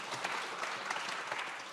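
An audience at an economic briefing event claps to welcome the mayor, a continuous even burst of many hands clapping, moderately loud and uninterrupted by talk.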